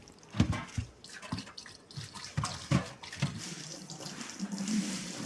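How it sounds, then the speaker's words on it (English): Diet soda poured down a kitchen sink makes soft, uneven splashes and drips, fairly quiet and close, in irregular bursts with no talking. "Pour it down the sink."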